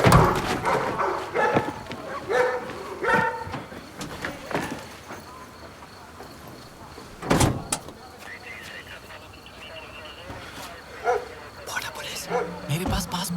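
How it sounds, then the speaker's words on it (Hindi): Dogs bark in short, sharp bursts during an action scene from a Hindi-dubbed South Indian film starring Yash. The barks come over people talking, with car and door noises around them. "कुत्ते। कैसे कुत्ते?"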